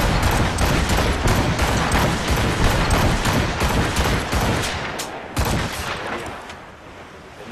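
Naval cannon volley fire from a ship in the Assassin's Creed Rogue video game, a dense, loud continuous barrage of booming shots that rolls on for several seconds and eases off toward the end.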